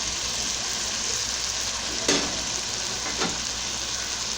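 Smoked herring fries with cooked tomatoes and onion in a pan, a steady close sizzle throughout, broken by two brief stirring scrapes.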